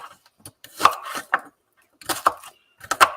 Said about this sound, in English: So I'm literally roughly chopping, not finely, roughly.